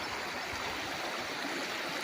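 A river runs beside a farm lot in Real, Quezon, giving a steady, dense rush of flowing water that stays constant and fairly loud throughout, with no voices.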